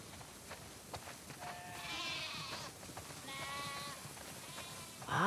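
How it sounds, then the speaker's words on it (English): Sheep bleating in the video game The Last of Us Part 2 on a farm, several wavering bleats overlapping in the middle distance over a steady hiss of game ambience, fairly quiet with no talking. "Wow, that's a lot of sheep."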